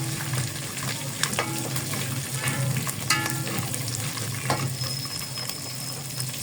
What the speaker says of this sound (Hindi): थोड़ा सा हम फ्राई कर लेंगे बस